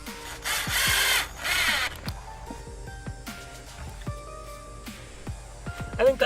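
A power drill driving screws through a leather strip hinge into a tarp frame: short bursts of motor whine separated by pauses, with clicks and knocks of handling in between.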